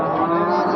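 Calves bound for fattening moo at a cattle market in Barda, Azerbaijan: one close, loud, sustained low moo filling the moment with no talk over it.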